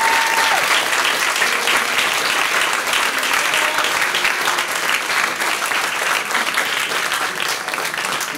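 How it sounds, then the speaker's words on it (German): Loud, sustained applause from a large audience for five panel guests, a dense steady roar of clapping lasting the whole stretch. "dann einen ganz, ganz großen Applaus für unsere fünf Gäste"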